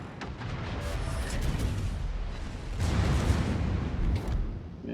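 Naval warship secondary guns booming continuously in a battle game, dense layered blasts and rumbling explosions building in intensity with no speech.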